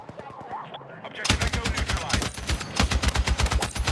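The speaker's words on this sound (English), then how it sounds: "How many shots before this bush gets annihilated and goes away?" Rapid video-game gunfire aimed at a bush, with dense bursts of loud automatic shots that start abruptly partway through and continue steadily, after a quieter opening.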